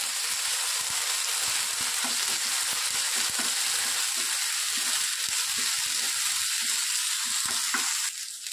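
Onions frying in a pan with half a spoon of ginger garlic paste being mixed in for an Andhra-style colocasia fry, a loud continuous sizzle with soft scraping stirs underneath, close up.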